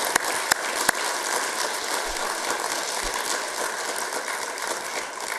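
Steady, dense applause from an audience at a county design and environmental achievement awards ceremony, sustained at an even level throughout with a few sharper claps near the start and no voices.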